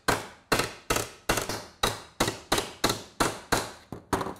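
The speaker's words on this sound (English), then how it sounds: "I'm letting the hammer do all the work." A hammer strikes aluminum in a steady series of about a dozen sharp, evenly spaced blows, each with a short ringing decay, close and alone.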